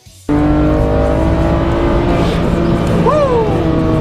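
A BMW 335i running a custom MHD tune accelerates hard from inside the cabin, its engine note rising loud and continuous after a quiet start, with a brief voice mid-run.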